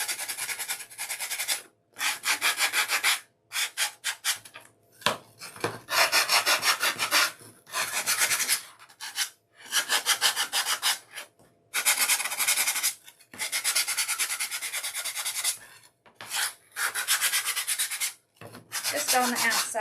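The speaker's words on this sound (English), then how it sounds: "I would suggest kind of sanding out this little piece" Sanding a small wooden craft piece from a dollar-store macaroon wreath attachment, heard as close, loud bursts of rough abrasive rubbing that come in repeated strokes separated by brief pauses, with no voices.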